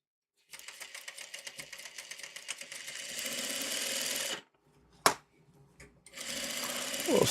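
A sewing machine stitches fabric in a steady rapid whir that picks up speed, then stops, with a sharp click and a short second run of stitching afterward.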